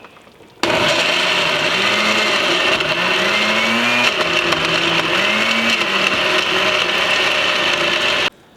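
A blender runs continuously for about eight seconds, loud and close, as it blends red chili sauce for birria tacos, its motor whining steadily with a churning, wavering drone and no talking.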